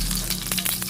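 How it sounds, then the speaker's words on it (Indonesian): Ground spices sautéing in about three spoonfuls of hot oil in a wok give a dense, continuous close-up sizzle and crackle throughout. "Ini kita tumis semuanya ya bumbunya."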